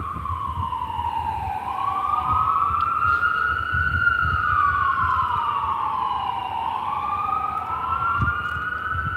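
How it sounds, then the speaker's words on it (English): An ambulance siren wails in a steady rising and falling sweep as it passes by, loud and continuous over a low rumble of traffic, with no voices. "that's the ambulance getting ready to go by down there"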